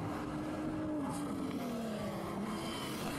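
A race car in a 25-hour endurance race at Thunderhill drives past on the track, its engine a steady droning roar that slowly drops in pitch as it moves by, heard from a distance with no talk.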